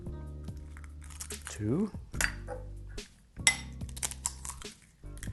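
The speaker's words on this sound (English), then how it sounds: "Now I'm going to take my eggs and crack them on my bowl" Eggs are cracked against a bowl in a home kitchen: a few sharp taps and knocks on the rim, with a person talking between the cracks.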